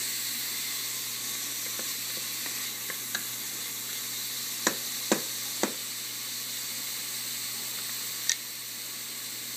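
Carrots and celery sauté over lowered heat in a soup pot, a steady broad sizzle with a few sharp pops and crackles scattered through it, close and continuous with no talking.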